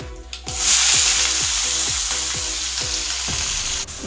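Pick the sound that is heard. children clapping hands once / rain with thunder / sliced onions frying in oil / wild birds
sliced onions frying in oil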